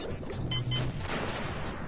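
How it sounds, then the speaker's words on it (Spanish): Nitro crates blowing up in Crash Bandicoot 3: Warped, a dense game crash-and-smash burst with a low booming body that fades over under two seconds. "Todas las nitros aquí. Las explotamos."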